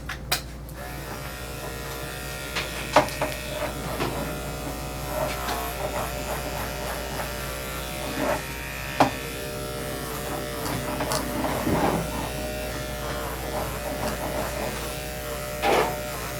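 Electric clippers buzz steadily while shaving down a dog's coat, a close, continuous motorized hum with small shifts in pitch and occasional bumps as the blade moves through the fur.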